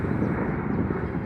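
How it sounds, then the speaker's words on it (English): A fixed-wing airplane drones overhead outdoors on a chilly, windy day, a steady broad low rumble that holds for the whole moment with gusty wind noise on the microphone mixed in. "Also airplane."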